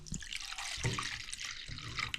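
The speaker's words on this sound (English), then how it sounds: "All you need to do is just put about a cup of white vinegar" White vinegar is poured from a cup into a shower drain, giving a soft, close splashing trickle with a few small dripping spurts.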